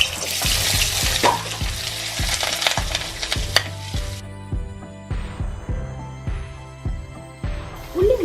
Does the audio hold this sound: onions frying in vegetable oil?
yes